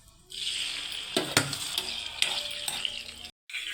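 Chicken gizzard pieces dropped into a hot pan, a constant loud sizzle broken by several sharp clatters and stirring knocks, then a short cut to silence before frying resumes, no talk.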